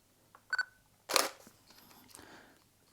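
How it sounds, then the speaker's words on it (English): A single-lens reflex camera shutter fired at a slow 1/30 second speed, one crisp mechanical clack with a softer preceding click, close and isolated in a quiet room. "really slow my shutter down to a 30th of a second"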